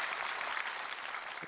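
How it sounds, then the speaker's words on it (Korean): A congregation at a New Year's Eve church service applauds its choir in a short, dense burst of clapping that stays even throughout and ends abruptly. "우리 수고한 우리 삼부 성가대 한번 우리 격려의 박수 부탁합니다."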